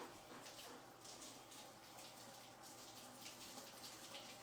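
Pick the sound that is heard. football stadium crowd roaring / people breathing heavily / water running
water running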